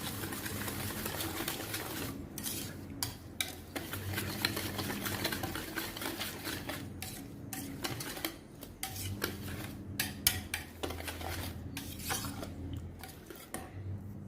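Eggless, milk-free Christmas cake batter is stirred in a bowl, a spoon scraping and clinking against the sides in an uneven rhythm over a steady background hum, with no speech.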